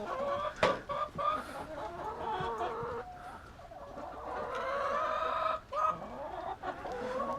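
Farm chickens cluck and murmur nearby in a busy, uneven chorus, with a sharp squawk near the start and a faint crow in the mix, no talk over them.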